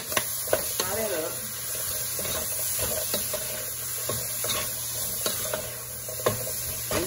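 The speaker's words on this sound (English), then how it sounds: "I'm just gonna fry this for about 1 more minute" Collard greens frying in a pan with salt and black pepper, giving a steady close sizzle and hiss with a few sharp utensil clicks on top, and a faint steady hum beneath it.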